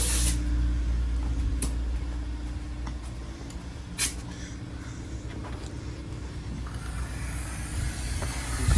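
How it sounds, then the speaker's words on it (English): Steady broadband hiss of simulated steam pressure from a model train, continuous and fairly close, with a low rumbling mechanical drone beneath and a few brief sharp clicks. "Simulating steam pressure."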